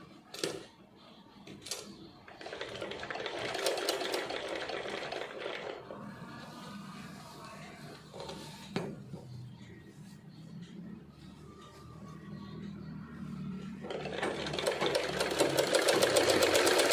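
A sewing machine stitches lining to a silk skirt, running in bursts of steady mechanical whirring with brief pauses, fairly close and moderately loud, with no talk over it.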